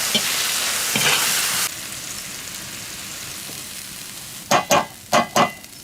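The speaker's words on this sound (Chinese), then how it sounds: "来点生抽，加点盐，炒熟以后舀到鸡蛋盆子里。" Eggs being stir-fried with soy sauce and salt in a wok, a steady loud sizzle of frying that drops partway, followed near the end by four short scraping strokes of a spatula against the pan.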